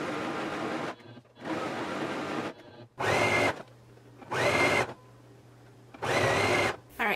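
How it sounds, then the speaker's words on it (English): A serger finishing the lower edge of fabric runs in loud, steady whirring bursts of about a second each, close up, separated by short pauses and a low background hum. "I'm gonna go ahead and finish off this lower edge that with my serger"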